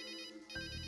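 A telephone rings in the adventure game Runaway: A Road Adventure: an electronic ringtone tone that pauses, then starts again more loudly, heard alone without speech.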